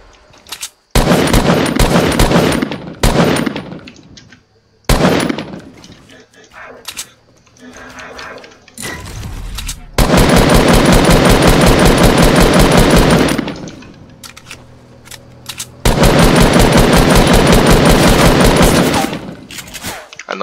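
Loud, sustained machine gun bursts fire in a shooter video game, several long volleys with short gaps between them, while a player talks over the shooting.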